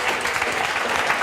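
A group claps steadily for a student in a Hindi exam-solution class, a short, dense burst of applause heard up close.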